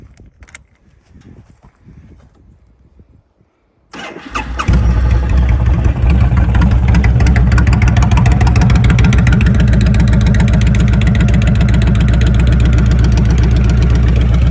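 After a few seconds of quiet rustling, a 2005 Honda VTX 1300 motorcycle engine starts and settles into a loud, steady idle with a rapid, even throb.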